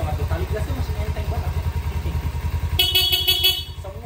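Kawasaki Ninja 250FI Special Edition motorcycle engine idling close by with a steady, fast low pulsing throb, while a person talks over it and a brighter burst of sound joins near the end.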